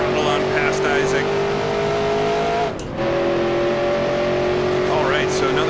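Race car engine in a NASCAR Grand National racing game, 1966 Motor Trend 500, droning steadily at high revs with a brief dip and lift as the throttle comes back on out of a tight corner, loud and continuous.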